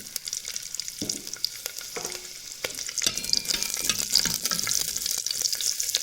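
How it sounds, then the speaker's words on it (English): Sambar onions sizzle and fry in hot oil in a heated vessel, a steady bright crackle with occasional stirring clinks, close and continuous throughout. "Now add sambar onion to it."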